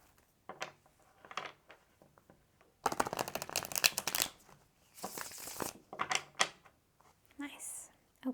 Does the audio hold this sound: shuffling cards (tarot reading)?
yes